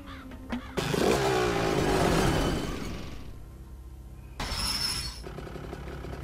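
Motorbike engine in the point-and-click game Deponia: a rough engine burst kicks in and roars loudly for a couple of seconds, fades, then a shorter second surge follows, with no talk.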